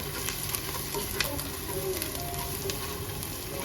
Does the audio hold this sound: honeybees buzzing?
no